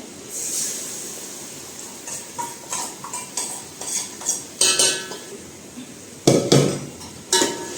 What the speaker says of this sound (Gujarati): આપણે હવે આમાં તેલ સાથે સતળાવા દઈશું